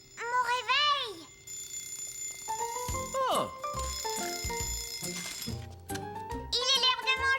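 In a children's cartoon, an alarm clock rings in bright, tinny bursts mixed with cartoon music and sound effects, while a child cries out briefly.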